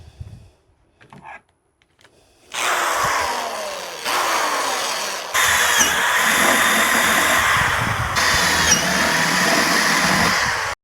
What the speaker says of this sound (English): And let's drill some holes.